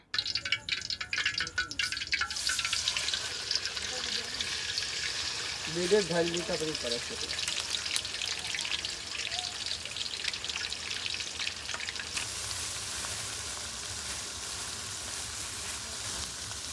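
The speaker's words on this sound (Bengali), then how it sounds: "তেল তেতে যাওয়ার পরে আমরা আমাদের উপকরণগুলো দিতে থাকলাম।" Ingredients sizzle and crackle steadily in hot soybean oil in a wok, a continuous frying hiss throughout, with a brief clatter partway through.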